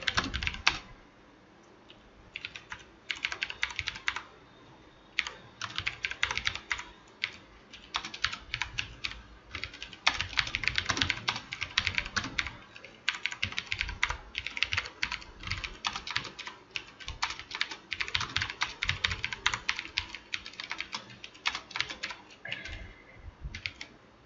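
Fast, steady typing of web markup on a computer keyboard, a dense run of close key clicks with brief pauses, alone without speech.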